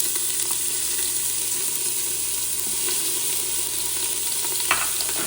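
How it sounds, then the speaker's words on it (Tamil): Chopped onion and green chilli frying in a pan for a Madurai-style salna: a continuous bright sizzle with occasional stirring scrapes, close and steady. "ஒரு வெங்காயம் ஃபுல்லாக நறுக்கி வச்சுருக்கோம் பார்த்தீங்களா, அதை ஃபுல்லாக போட்டுக்கிறோம். அது கூட பச்சை மிளகாவும் நம்ம சேர்த்துக்கிறோம்"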